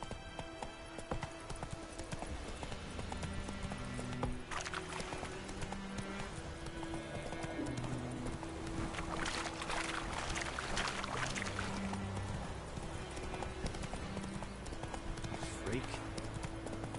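Hoofbeats from the horse Roach in The Witcher 3 clop steadily throughout, mixed with game music and background sound effects, with character voices speaking over parts of the scene.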